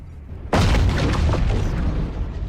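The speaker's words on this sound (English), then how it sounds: "Autocannon destroyed. Weapon explosion detected." In the mech combat game MechWarrior Online, a weapon explodes with a sudden loud booming blast that rolls into a sustained rumbling roar lasting about two seconds.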